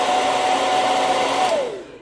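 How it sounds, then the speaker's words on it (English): A handheld blow dryer runs steadily and loudly at close range, a continuous whooshing whine that drops in pitch and fades as it powers down near the end. "and then I like to curl with a blow dryer"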